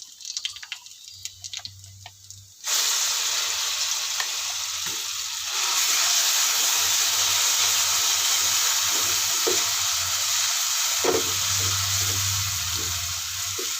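Ground masala hits a hot pan and fries with a loud, steady sizzle that surges and stays strong, broken by a few stirring knocks, close up and with no talking.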